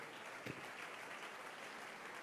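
Steady clapping from a congregation at a church service fills the whole stretch, even and sustained at a moderate distance, with no voices over it.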